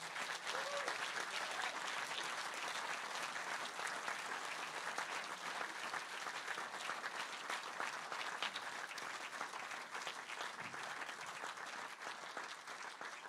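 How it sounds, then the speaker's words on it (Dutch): Sustained audience applause fills a film premiere venue, a dense, steady wash of many hands clapping at even loudness throughout, with no voices standing out. "Ik wil eigenlijk een heel groot applaus vragen voor alle mensen die zichzelf hebben laten zien vanavond"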